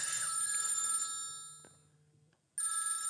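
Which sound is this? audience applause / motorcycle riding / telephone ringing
telephone ringing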